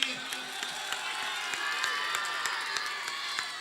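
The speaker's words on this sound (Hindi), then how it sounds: "अब भाभी को सलाम वाली तालियां एकदम बजा के बताइए" A mushaira audience in Suratganj applauds, a dense wash of clapping with sharper individual claps standing out throughout.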